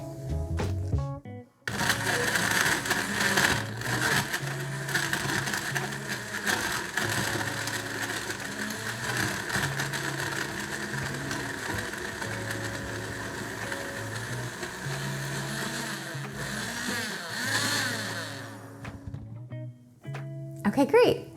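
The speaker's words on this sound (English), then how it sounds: "and now we're gonna blend it" A countertop blender whirs through a tropical breakfast smoothie for about twenty seconds, a loud continuous motor drone with rattling, churning texture as ingredients break down, starting abruptly and cutting off near the end.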